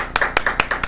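A few sharp hand claps in quick succession, about four or five, close and fairly loud in a studio morning show setting, with no voices over them.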